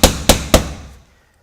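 A hammer strikes a wooden block three times in quick succession against the side lock of a steel roofing shingle, each a loud, sharp, close knock, followed by a short ring-out.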